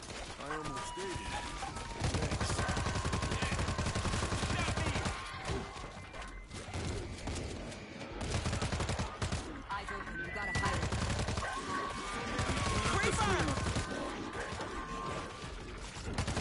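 Dense bursts of gunfire rattle through a World War Z zombie shooter battle, rapid automatic volleys and crashes layered over one another almost continuously, with voices talking underneath.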